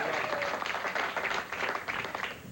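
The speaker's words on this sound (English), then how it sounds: "And listen to that applause." A studio audience at a 1986 televised bowling game show applauds a winning bowler, a soft, dense wash of clapping heard faintly and evenly throughout.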